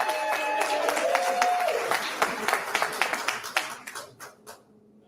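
Audience applause at a California bill signing event with the governor, a dense burst of many hands clapping that thins out and fades toward the end, with some voices mixed in.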